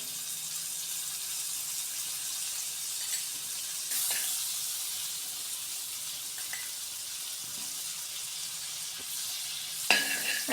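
Butter melting in a hot pan gives a steady, soft sizzle that hisses evenly throughout, with a couple of faint clinks of a utensil near the middle and end.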